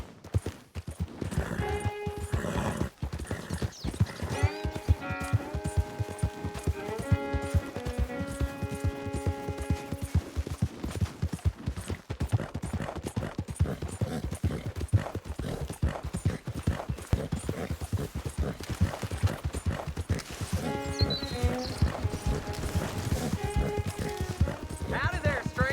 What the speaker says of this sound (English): Hey, that's a nice-looking horse you have there.